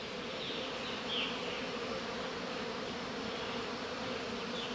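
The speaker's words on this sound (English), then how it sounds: "there's quite a few bees on the frame of the extractor" Many honey bees buzz around a honey extractor in a steady, droning hum, a continuous swarm sound fairly close, with no voices.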